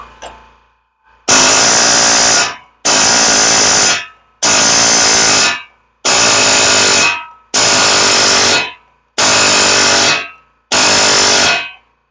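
A pneumatic air chisel hammers on a car ball joint in seven loud, harsh bursts of about a second each, separated by brief silent gaps, close up with no voices.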